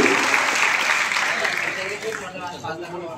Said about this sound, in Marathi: त्यांच्यासाठी 2 वेळा आपण टाळ्या वाजवूया